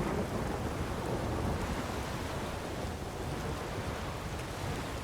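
Steady, heavy rainfall with rumbling thunder in the video game The Witcher 3, a dense, constant wash of rain with deep low rumble throughout, no voices.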